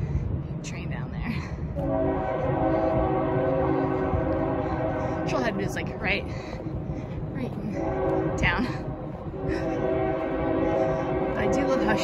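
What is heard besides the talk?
train passing below a hiking trail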